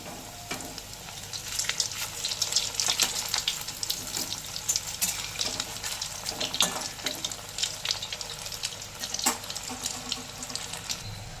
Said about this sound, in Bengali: এবার প্যাটিগুলোকে তেলের মধ্যে ছেড়ে দেব।